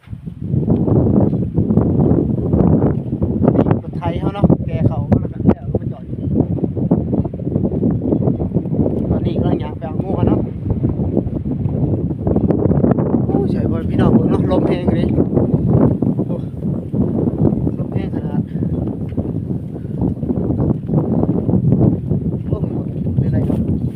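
A cold, dry evening wind sweeps over open rice fields, roaring and buffeting the microphone continuously, close and loud. A person talks throughout over the wind.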